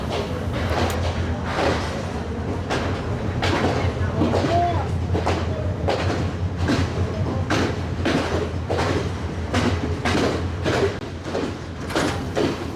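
Train pulling away from a brief stop on a Sri Lankan hill country railway, with a steady low engine rumble and rhythmic clattering of wheels and carriages throughout, along with voices and cabin noise.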